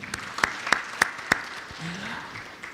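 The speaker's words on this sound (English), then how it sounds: "Let's appreciate her again with a hand clap." A few isolated hand claps ring out at a university research conference, four sharp, evenly spaced claps followed by a quieter room.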